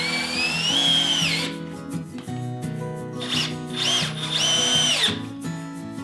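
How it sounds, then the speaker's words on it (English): Power drill driving 2.5-inch deck screws into raised garden bed corner posts, loud whining motor bursts rising and dropping in pitch across several runs, close up with no talking. "the next step in the process is to drill in the sides to the corner posts"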